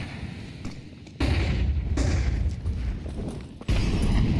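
Grenade utility detonating in Counter-Strike 2: two heavy booming blasts land one after another, each a sudden loud low thud with a rumbling tail, over quieter game ambience in between.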